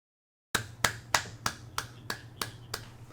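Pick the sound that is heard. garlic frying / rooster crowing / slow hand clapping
slow hand clapping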